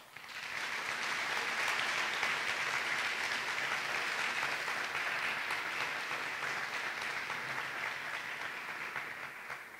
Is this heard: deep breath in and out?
no